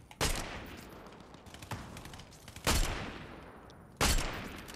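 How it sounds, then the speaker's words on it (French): Bursts of gunfire from a new weapon in the video game Fortnite, four loud percussive volleys spaced about a second apart, each with a short ringing tail over faint game ambience. "Les gars, les tirs, ils sont un peu chelous."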